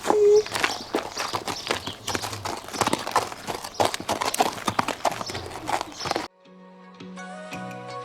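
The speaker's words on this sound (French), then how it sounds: "Une fois à cheval, j'ai commencé évidemment par marcher Valiska" A mare's hooves clip-clop at a walk under a rider, a close, steady run of sharp strikes that cuts off abruptly and gives way to soft music.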